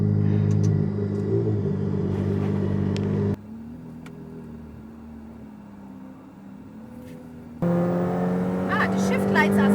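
A Ferrari F8 Tributo starts and runs with a loud close engine roar and rumble, drops to a quieter idle, then swells again, with a person talking over it.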